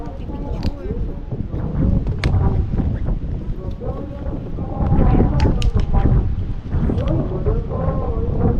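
Strong wind buffets a microphone outdoors in Taiwan, producing heavy, rumbling gusts that surge and ease throughout. Loud and close, with a person talking underneath.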